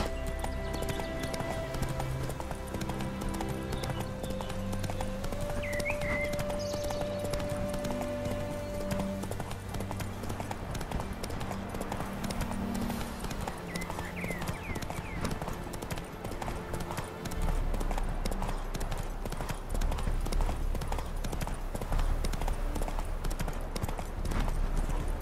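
Roach the horse gallops in The Witcher 3, steady clip-clop hoofbeats running throughout over game music and ambience, with a brief whinny partway through.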